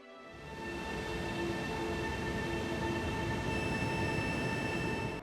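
An Arlanda airport express train near Stockholm rolls along with a steady low rumble and sustained high-pitched electric whine, constant and close, with no voices.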